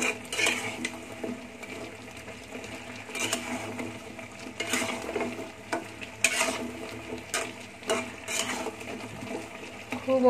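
Gaja sweets cook in bubbling sugar syrup in a pan, giving a soft, uneven sizzle. Occasional stirring scrapes and clinks rise and fall over it.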